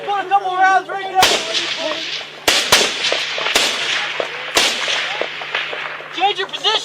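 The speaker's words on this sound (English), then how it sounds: "Just put a couple rounds right there." Rapid bursts of rounds in an Afghanistan firefight between American forces and the Taliban, sharp cracks repeating irregularly over about seven seconds, some close and loud, with distant echoes and a faint background hum.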